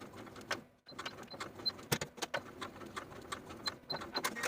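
A sewing machine stitching a tank top strap seam, a quiet run of mechanical clicks and short whirring bursts with brief pauses, close up and alone without talk.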